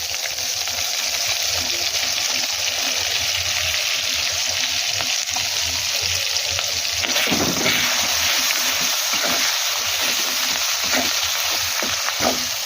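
A spice masala of ginger paste, salt, turmeric and chili powder sizzles loudly and steadily in a pan, with occasional spatula scrapes and clinks close by and no voices.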